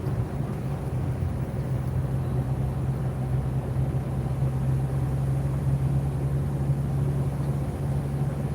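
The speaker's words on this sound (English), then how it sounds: "There's another engine. I think that's the actual engine that they use there." Engine idling steadily at a site in Potlatch, Idaho, a low, constant hum with a drone and faint rumble throughout, moderately distant, no talking.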